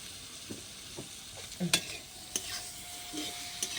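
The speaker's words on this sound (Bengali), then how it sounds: "তেলটা গরম হয়ে গেছে বেগুনগুলো দিয়ে দেবো ভেজে নেবো" Eggplant slices frying in hot oil in a pan over a clay stove, a soft steady sizzle broken by several sharp clinks and scrapes of a utensil stirring, close by.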